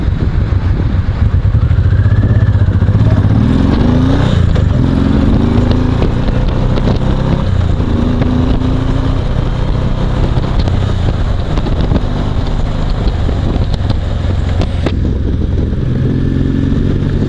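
A motorcycle fitted with a car tyre drones at speed on a highway under heavy wind rush, with brief pitch shifts as it changes revs; loud and continuous.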